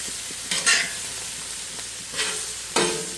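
A sirloin steak sizzles on a hot griddle in a steady close hiss, with three brief louder flares of spattering as the meat is moved or pressed.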